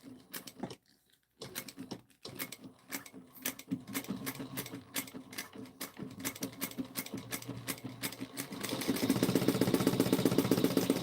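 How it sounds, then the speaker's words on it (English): A sewing machine stitches a clear vinyl bag in quick rhythmic bursts, pausing briefly between runs and then settling into a faster, denser continuous whir toward the end. "We're going to back stitch at the beginning and the end."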